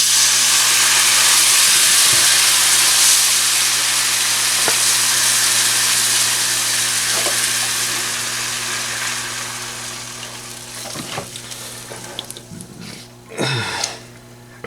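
Flour and chicken broth gravy for a Thanksgiving turkey sizzles loudly in a pan, a strong hiss that slowly fades and thins, then a few stirring scrapes and clinks near the end.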